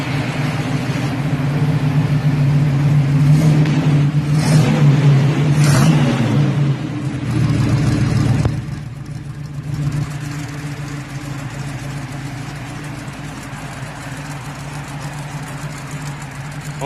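An Oldsmobile car with a swapped 350 V8 runs at a gas pump, rough and loud with a few revs early on, then settles into a lower steady idle.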